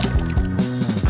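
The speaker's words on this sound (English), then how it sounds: "Now just add water." Water is poured into a container full of soaps, foams and powders, a short gurgling, splashing fill heard up close with no voices.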